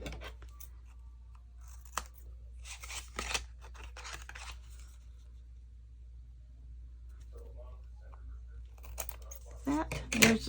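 Scissors snip through a small paper tag during a scrap-busting card-making session, giving a few quick crisp cuts in separate bursts, close and clear, with no talk over them.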